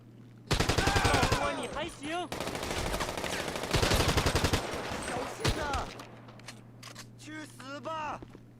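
An automatic gun in GTA 5 Online fires long rapid bursts that empty a full magazine, loud and dense. Speech and chatter run beneath the shots, which pause briefly between bursts.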